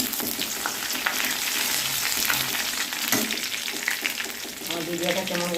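Five-spice seeds and chopped ginger fry in hot oil for a mixed vegetable dish, giving a steady, close crackling sizzle with stirring throughout and a brief murmur of talk.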